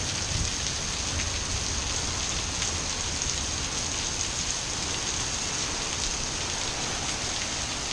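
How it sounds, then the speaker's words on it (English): Heavy monsoon rain pours steadily with gusting wind, a dense, close, unbroken hiss of drops hitting surfaces that holds at constant loudness throughout, with no voices. "listening to the rain."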